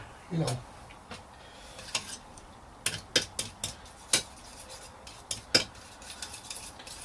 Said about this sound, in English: I'm mixing my colours on the palette